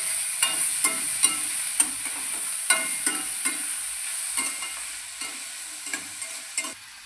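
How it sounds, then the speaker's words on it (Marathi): Ingredients being sautéed in a pan, with a bright steady sizzle and a regular series of sharp spatula scrapes and taps roughly every half second, close and fairly loud, fading slightly toward the end. "आता थोडासा परतून घेऊया।"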